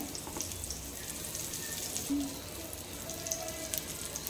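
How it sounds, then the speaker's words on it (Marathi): Eggplant slices frying crisp in hot oil, a steady hissing sizzle running throughout with a few small pops and crackles, close and moderately quiet. "छान क्रिस्पी असे तळून घेऊया."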